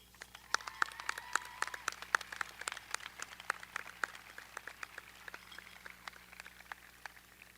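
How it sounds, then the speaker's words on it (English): Scattered applause at an outdoor high school graduation, faint and distant, made of sparse individual claps rather than a dense roar, with no voices. "Let's give them a big round of applause as a thank you"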